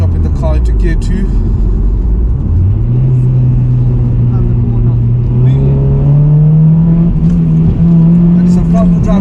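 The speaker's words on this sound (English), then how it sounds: "Dropping the car into gear 2." A 2006 Honda Civic EP3 Type-R, tuned to Stage 2, pulls hard in second gear from inside the cabin. The engine note climbs steadily and loudly, and a voice talks over it.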